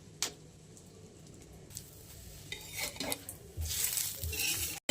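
Egg sandwich filling fries in a pan while a utensil stirs and scrapes it, clinks and scrapes building into a steady sizzle toward the end, close and moderately loud.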